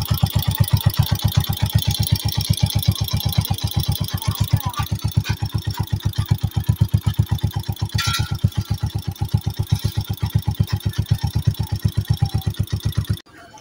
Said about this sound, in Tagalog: So ito pala yung tunog ng makina niya.